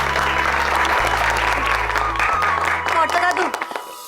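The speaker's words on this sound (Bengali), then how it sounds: "সব হাততালি দিতে হয়" Applause with hands clapping continuously, heard under steady low background music, with the clapping thinning out near the end.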